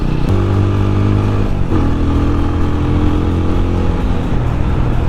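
A motorcycle speeds along a smooth, quiet road, its engine droning loud and steady close up, the pitch dipping briefly with a gear change before holding strong again.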